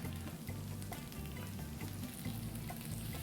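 Scallions seasoned with salt, pepper and olive oil sizzle on an electric grill top, a steady quiet hiss dotted with small sharp pops, with no one speaking.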